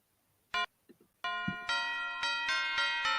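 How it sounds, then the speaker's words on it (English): A doorbell rings at a house during a Christmas party, a quick chime followed by a series of bright, sustained bell tones that layer and ring on, loud and close, with a few faint thumps before. "The doorbell has rung again."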